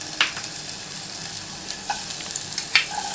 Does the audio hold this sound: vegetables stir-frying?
yes